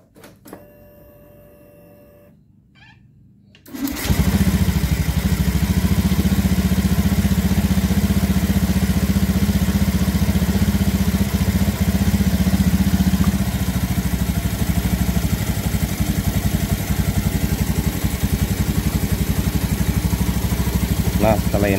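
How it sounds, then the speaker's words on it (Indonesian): A motorcycle engine catches after a few quiet seconds of fiddling, then settles into a loud, steady, close idle with an even throbbing pulse throughout. "tes hidupkan motornya ya. Kita hidupkan dulu motornya"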